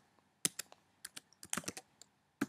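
A command being typed on a Mac computer keyboard: quiet, irregular keystroke clicks in short close bursts, with no voices.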